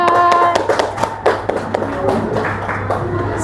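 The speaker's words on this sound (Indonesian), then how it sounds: "tepuk tangan untuk kelompok 3, silakan" A primary school class claps hands in scattered, uneven applause for a student group, sharp slaps close by that thin out toward the end, with murmured voices underneath.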